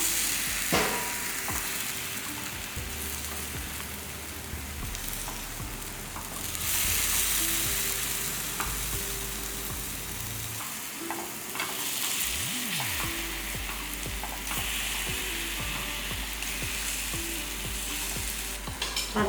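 Paniyaram frying in a pan, a continuous close sizzle of batter in oil with occasional light clicks and taps of a utensil, steady and fairly loud throughout with no talking.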